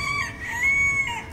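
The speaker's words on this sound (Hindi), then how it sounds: "मुर्गी का गला खराब हो गया।" A chicken gives a hoarse, strained call, one drawn-out raspy cry lasting about a second, close by with low rumbling background noise and no talk.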